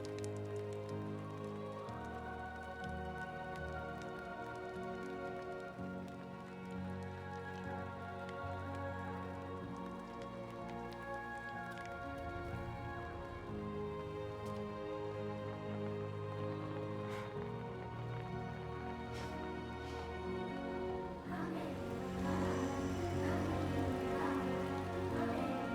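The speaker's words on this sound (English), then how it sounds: "She can make the rain, but can she stop the rain is the question." Rain falls steadily as a soft, even patter that runs throughout, with sustained musical tones layered over it and no talking.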